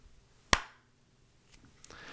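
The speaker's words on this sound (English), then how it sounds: "That was it, folks. One clap." One sharp hand clap, loud and close, ringing briefly in an otherwise quiet room before a couple of faint taps follow.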